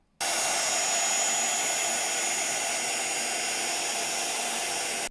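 A heat tool blowing hot air to melt embossing powder on a mixed media craft tag, a steady loud whooshing hiss that starts abruptly, holds evenly for about five seconds, then cuts off.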